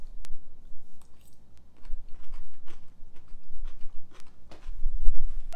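Crunchy bites of a lime jello cucumber salad made from a 1975 Betty Crocker recipe, chewed close up in a quiet room with a string of small crisp crunches and moist mouth sounds.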